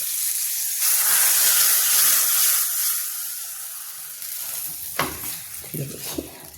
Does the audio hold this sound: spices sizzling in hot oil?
yes